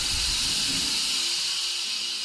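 A gargantuan steam engine parked outside a bedroom window lets off a loud, steady hiss of escaping steam that runs unbroken throughout, with a faint low rumble beneath.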